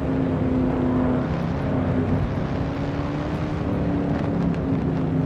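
A car engine cruising at an even pace in the Assetto Corsa racing game, a continuous steady drone with a sustained tonal hum, loud and alone with no talk.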